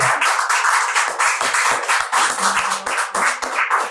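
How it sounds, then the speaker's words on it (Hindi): Steady, dense applause from a crowd, continuous clapping that stays loud throughout with no pause. "जोरदार ताली बजाना मुझसे"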